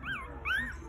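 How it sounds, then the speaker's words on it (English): Newborn puppies whimper in two thin, rising and falling cries, high-pitched and close, over a low steady background hum. "these sweet puppies belong to Kyra and Rufus."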